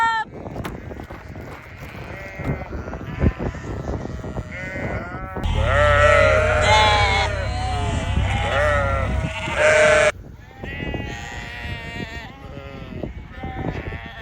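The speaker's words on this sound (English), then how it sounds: "we've got all the sheep and lambs in, everyone's in the shed" Many sheep and lambs bleat over one another inside a shed, loud and close, with overlapping high and low calls and a heavy chorus in the middle.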